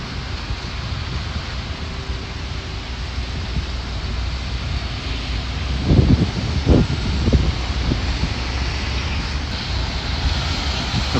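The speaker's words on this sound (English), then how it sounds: "Planes going in a different direction in the background, and I'm waiting for more to come my way." Airplanes drone overhead at the EAA Oshkosh airshow, a steady broad engine roar with wind, and a few brief louder knocks or gusts partway through; no talk.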